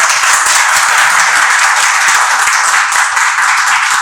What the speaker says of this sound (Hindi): आज की मीटिंग में प्लीज ताली का स्वागत।